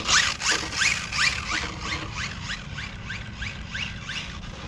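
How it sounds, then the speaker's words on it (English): A small Kyosho Charger RC car on cheap drift tires and duct tape spinning a donut, making a repeated whirring squeal that rises in rhythmic sweeps, close and steady. "I'm just gonna cut a little donut here real quick."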